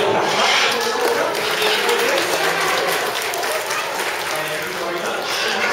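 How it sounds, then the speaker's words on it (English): An audience at a parrot show at Longleat Safari Park in Warminster, UK, claps in a steady, dense round of applause that lasts the whole time. "Give it a little clap."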